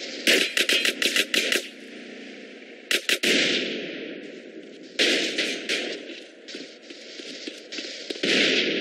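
Gunfire in the video game GTA San Andreas during a Grove Street versus Ballas gang fight: loud, sharp bursts of rapid shots in clusters, separated by short pauses and a sustained noisy background, with no talking.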